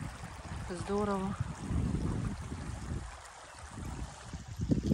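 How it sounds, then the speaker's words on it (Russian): A small river runs beside a wild beach on the Tuapse–Sochi coast, its steady watery rush close and continuous, with a brief spoken exclamation near the start. "Речка."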